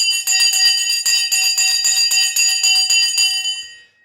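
A bright metal hand bell rings loudly and continuously for about three seconds, its clanging strokes sustained, then fades out, rung during a live stock market trading broadcast.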